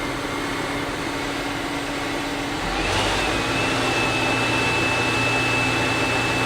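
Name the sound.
fan running balanced after cleaning dust off blades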